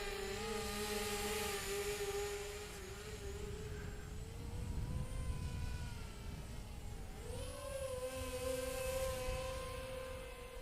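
An XK X450 RC aircraft flies with a steady electric motor whine that holds its pitch, then shifts higher partway through. The sound stays loud and close the whole time, with no talk.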